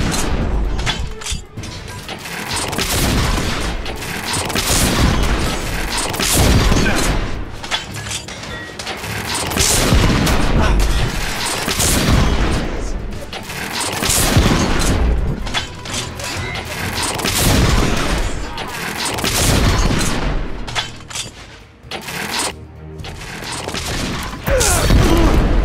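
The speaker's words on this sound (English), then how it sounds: "We are witnessing heavy artillery fire at the moment." Heavy artillery fire in the game The Order: 1886, set around Westminster Bridge in an alternate Victorian London: rolling booms and crashing impacts pound repeatedly in a loud, dense barrage with no letup.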